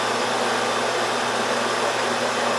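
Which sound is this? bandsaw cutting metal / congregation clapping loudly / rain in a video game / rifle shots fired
bandsaw cutting metal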